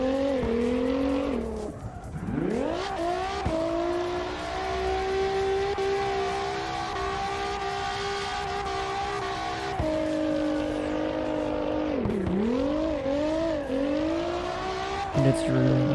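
A car races on a track in the CarX Drift Racing video game, its engine droning loud and steady with sharp pitch drops at gear shifts and brief tire squeals, while a voice talks faintly underneath.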